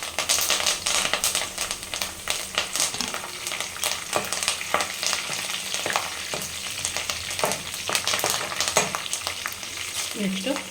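Curry leaves frying in a pan while making homemade puliyogare gojju, a steady close crackling sizzle with a dense spatter of pops and occasional stirring taps, continuous throughout with no talk.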